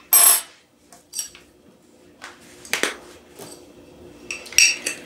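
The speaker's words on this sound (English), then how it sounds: "I'm using the 1/2 teaspoon measuring because it goes into the jar easier" A half-teaspoon measuring spoon clinking against a glass jar while mustard is added for an almond apricot vinaigrette, a few sharp metallic taps and pings spaced across several seconds, close and alone.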